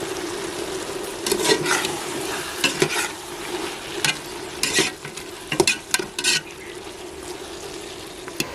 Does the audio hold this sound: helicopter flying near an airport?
no